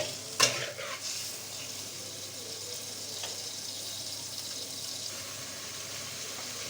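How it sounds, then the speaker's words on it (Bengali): Snakehead fish pieces fry in a pan, a sharp metallic clank at the start giving way to a steady, close sizzle with faint stirring throughout. "মাছগুলো দিয়ে দেবো মাছগুলো ভালোভাবে কষিয়ে নেব"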